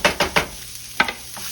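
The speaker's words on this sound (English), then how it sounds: "Kind of mix them around here, y'all. Let these onions kind of mix up in there a little." Little white onions frying in very little oil for corned beef hash are stirred with a spoon: three quick scrapes, a pause, then two more close together, each over a soft, low sizzle.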